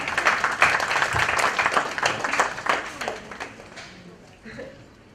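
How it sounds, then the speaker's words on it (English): Applause from an audience at a Bollywood book launch, a burst of clapping that is loud at first and gradually thins out, with some voices mixed in as it fades. "Applause."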